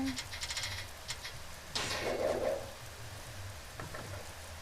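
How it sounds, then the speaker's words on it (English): Soft, steady rainfall in the video game Dynasty Warriors 9, with music off, patters throughout, with a brief louder rush partway through and a few faint clicks and thuds beneath. "all you can hear is just the sound of the rain"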